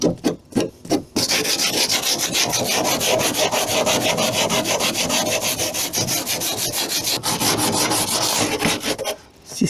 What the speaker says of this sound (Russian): Мягкий брусок вот такой у меня есть, тоже на липучке. Вот я сейчас вот эту старую наждачку.